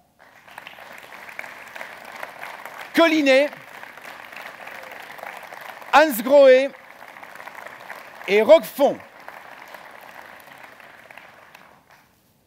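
Audience applause at a corporate show in a Ciney expo hall welcomes new member companies: a soft, steady patter of clapping runs throughout while a man reads out names over it in three short bursts.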